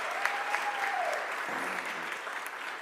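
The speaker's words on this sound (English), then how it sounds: "let's give our mayor and her team a real big round of applause" Audience applause fills a hall at a Philadelphia civic event announcing summer programs, steady sustained clapping from a large crowd that stays even and continuous throughout.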